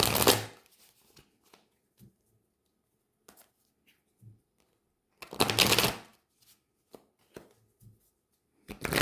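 An oracle card deck is shuffled in a few quick riffling bursts, with soft taps and card handling in between, close and quiet with no talk.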